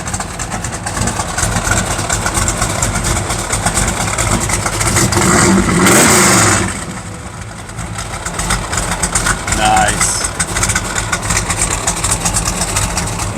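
A 1967 Ford Mustang engine idles steadily at an outdoor car show rod run, a loud continuous rumble with a brief swell mid-way, crowd noise around and a short spoken remark.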